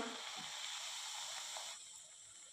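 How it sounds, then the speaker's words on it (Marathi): Sweet wheat-flour puri made with jaggery sizzles steadily in hot oil over a medium flame, a close, even hiss that eases slightly toward the end. "इथे आपलं तेल छान गरम झालेलं आहे। आता आपण पुरी सोडूया।"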